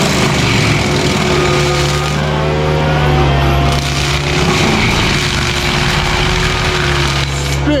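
A Little Big Munchie wood chipper mulches a 3 to 4 inch hickory tree, a loud, steady mechanical roar with a low engine drone and crackling, splintering wood running continuously throughout.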